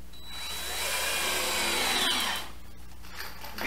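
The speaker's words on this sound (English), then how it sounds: "put in some screws" Power drill driving screws into the plywood floor of a teardrop camper, one sustained whirring run of about two seconds that winds down, fairly close and loud, with no talking.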